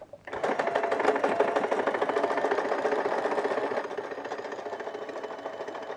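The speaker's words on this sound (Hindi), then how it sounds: "उसके बाद आपने इसको इसके ऊपर सिलाई रखनी है 1/2 इंच का मार्जिन छोड़ते हुए, और उसके बाद आपने यहाँ पे सिलाई लगा देनी है।" A sewing machine runs steadily, stitching tucks into a blouse with a half-inch margin, its fast rhythmic needle clatter close and continuous, easing slightly toward the end.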